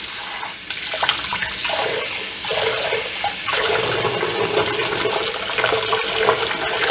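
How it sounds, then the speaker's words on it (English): Water runs steadily from a kitchen tap, a continuous loud splashing rush that shifts slightly in tone partway through, close by with no talking. "Let me get some water."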